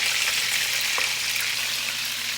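Meatballs frying in a pan of hot oil, a dense, even sizzle and crackle close by with a faint clink partway through, steady over a couple of seconds and without speech.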